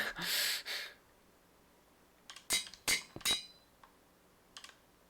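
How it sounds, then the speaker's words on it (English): Sharp glassy clinks from the Minecraft Bedrock video game, a few quick bright ticks in a short cluster after a soft breathy rush, fairly loud against a quiet background. "Because I know that clinking was also loud."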